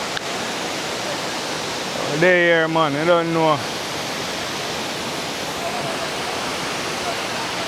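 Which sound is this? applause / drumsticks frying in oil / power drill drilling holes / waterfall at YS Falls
waterfall at YS Falls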